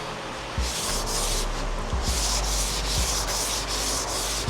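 A hone scrubs back and forth inside the cylinders of a freshly painted engine block being prepared for rebuild, a close, rhythmic abrasive rasping in repeated strokes with low thumps as each pass reverses.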